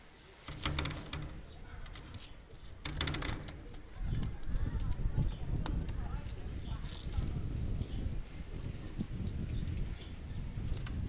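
Pakistani high flyer pigeons cooing softly near someone talking, with scattered shuffling and tapping throughout.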